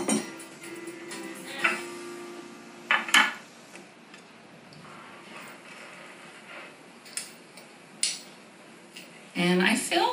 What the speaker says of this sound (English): You can even hear the air within the batter when you spoon it.